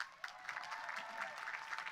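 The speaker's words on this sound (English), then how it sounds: "And I want to give yourselves a big round of applause." Graduates clap at a CUNY graduation ceremony, a short burst of crowd applause heard faintly and at a distance, steady and diffuse with scattered distinct claps.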